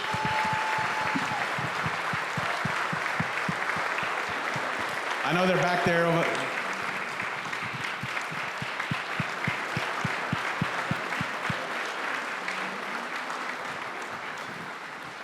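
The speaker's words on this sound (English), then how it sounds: "let's take a moment and give them a round of applause" A crowd at a city State of the City event applauds police officers and firefighters, steady broadband clapping running throughout with a brief tonal swell near the middle and a voice speaking over it.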